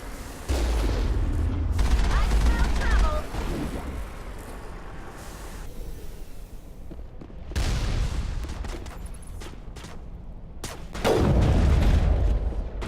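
Machine gun fire in Mass Effect, bursts of loud rattling gunfire and booming impacts coming in waves separated by quieter stretches, with a voice speaking in between.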